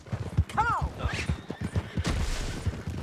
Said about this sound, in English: He's up on that horse, John.